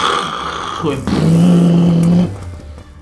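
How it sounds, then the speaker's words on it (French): A car drives with its detached exhaust pipe dragging along the road, making a loud, raw engine roar that swells for about a second and then drops away. "Je peux vous dire que ça fait du bruit sans ligne d'échappement."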